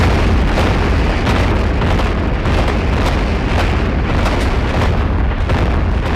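A Soviet rocket artillery barrage fires in a dense, continuous roar, with rapid overlapping booms and bursts, loud and sustained throughout.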